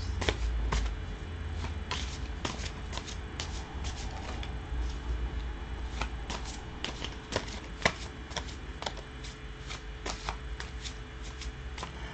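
Oracle cards being shuffled for a reading, a steady run of crisp riffling flutters and soft card slaps repeating close by for the whole stretch, with no voices.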